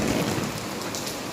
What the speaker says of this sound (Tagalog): Ulan nga naman.